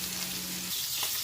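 Cheese-stuffed meatballs brown in a frying pan, giving a steady close sizzle with a low hum fading out partway through.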